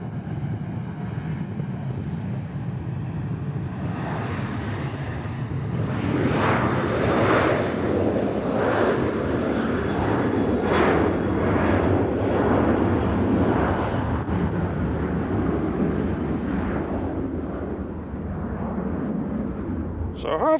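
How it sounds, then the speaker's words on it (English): A Southwest airliner departing Nashville International for Fort Lauderdale, its jet roar swelling loud and rumbling with pulsing surges through the middle before easing off, heard at a distance. "Our next departure is going to Fort Lauderdale. It's another Southwest."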